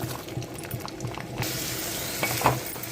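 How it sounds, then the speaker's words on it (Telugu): Onions, green chillies and curry leaves fry in hot oil in a pan, with a steady sizzle and close scraping stirs and clinks that swell as more is added. "ఉల్లిపాయలు బాగా వేగిపోవాలి"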